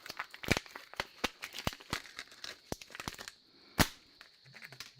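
A plastic pigment packet is cut open with scissors, giving a string of sharp crinkling snips and rustles in an uneven rhythm, close and crisp, one louder crackle near the end and no talk.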